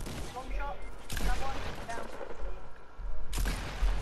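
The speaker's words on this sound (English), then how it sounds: "All right, he's just shooting the floor." Shotgun blasts in the Fortnite video game crack out in bursts at the start, middle and end, with players talking over the gunfire.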